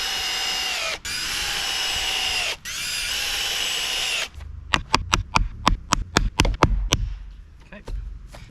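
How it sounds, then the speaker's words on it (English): A power drill drives screws into an archery net frame in two long, steady whirring bursts with brief pauses between them. Then come rapid tapping clicks and knocks, and a voice speaks briefly. "3 screws in this backside. And then we'll throw 3 screws in on this side."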